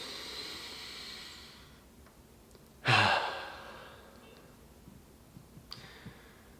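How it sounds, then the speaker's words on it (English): One deep, breathy inhalation during a guided breathing exercise, a single soft rush of air rising and fading, with quiet room tone around it. "Let's take a nice deep breath."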